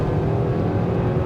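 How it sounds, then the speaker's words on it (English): A 2024 Hyundai Kona engine pulls at half throttle while merging into traffic, a loud, steady low drone heard from inside the cabin with road noise beneath it. "Definitely hear the engine then, and a little bit of the road noise"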